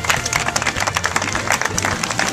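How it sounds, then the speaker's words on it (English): An outdoor street-performance crowd at Venice Beach, California claps loudly and close, dense overlapping hand claps with some cheering throughout. "Everybody give her a big round of applause."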